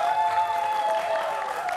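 Brief, light applause from a small group, steady and fairly quiet, with no voices over it.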